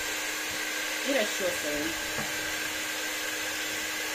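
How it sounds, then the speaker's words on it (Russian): A hair dryer blows on a dog's wet fur, a steady close whooshing drone lasting the whole time, while someone talks briefly over it. "У меня вот здесь фен и сушим."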